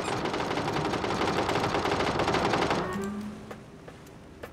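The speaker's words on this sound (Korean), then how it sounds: "계속 쏴, 계속 쏴." Rapid automatic gunfire in a video game rattles loud and dense for several seconds, then gives way to a few scattered single shots.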